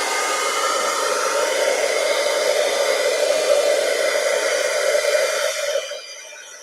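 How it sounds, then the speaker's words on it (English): A heat tool blows a steady, loud, close hiss of hot air while melting clear embossing powder over ink, running evenly for several seconds before it eases off and quiets near the end. "Because essentially the heat tool is hot enough now."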